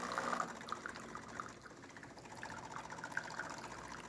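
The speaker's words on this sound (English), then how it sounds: "steady stream coming out of the hot water one." A thin, steady stream of hot water runs from the spout of a Jura coffee machine. The trickle is quiet and continuous and plays alone.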